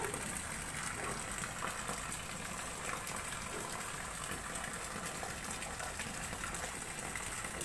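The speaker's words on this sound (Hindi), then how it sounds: "ये अल्लाह ताला के बादल बरस रहे हैं। ये बादल भी गरज रहा है।" Heavy rain pours down outdoors, with rainwater running and splashing into pots set out to collect it; a steady, dense, rushing wash of water continues close by throughout, with no talk.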